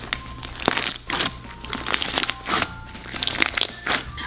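Crunchy slime being squeezed by hand, close crackling and crinkling pops in irregular bursts, loud and alone without speech.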